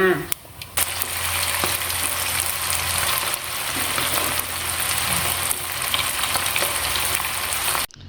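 Pork and taro fritters deep-frying in hot oil give a steady, dense crackling sizzle that runs on without a break, with a faint low hum underneath and a short pause near the start.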